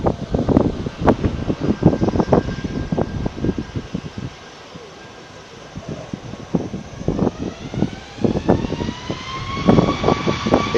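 A jet airplane taking off at an airport, its engine roar building into a rising whine near the end, with choppy bursts of nearby noise over a steady hiss.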